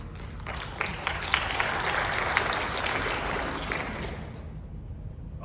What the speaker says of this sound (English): And I give you applause for that.